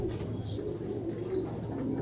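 Low, soft coos from a small racing pigeon repeat under a steady background hum, with a few faint higher chirps drifting in.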